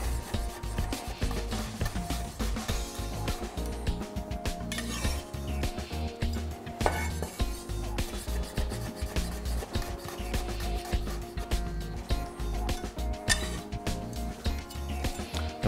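A kitchen knife slices red radish finely on a wooden board: a steady series of quick, close rubbing cuts and light knocks, recorded close with little talk.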